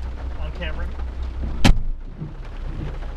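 Outdoor rain with a sudden sharp thunder crack midway, a steady wash of rainfall and low rumble around it, while a person speaks briefly nearby.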